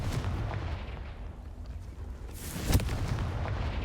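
A Confringo fire spell explosion in Hogwarts Legacy: rumbling blasts with a sharp, loud boom near the end over a continuous low roar.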